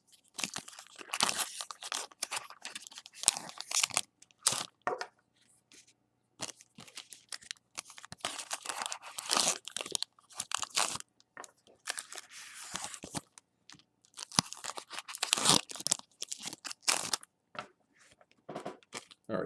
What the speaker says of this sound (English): you're not gonna clip the card when you cut the pack